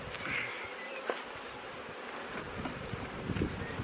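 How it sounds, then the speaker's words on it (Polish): A honey bee buzzes at a spring apiary, a faint droning hum over outdoor wind noise with a few soft clicks, moderately near and fairly quiet. "Co tu mamy za pszczołę?"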